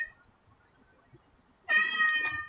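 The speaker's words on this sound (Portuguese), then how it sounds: "Meu gato tá miando, gente." A pet cat gives one loud, close, drawn-out meow after a near-silent pause indoors.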